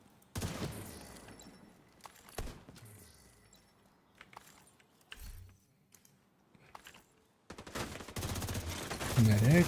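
Gunfire in a video game comes at the player in sharp bursts and scattered single shots, rising to a dense, loud volley near the end, with someone talking between shots.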